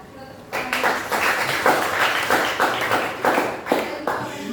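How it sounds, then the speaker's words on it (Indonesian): A class of students claps for a classmate's correct answer, a dense burst of hand claps starting abruptly and continuing steadily and fairly loud throughout, with some voices mixed in. "Kita tepuk tangan."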